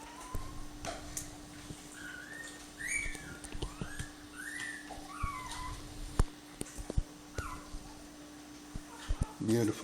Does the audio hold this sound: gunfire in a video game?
no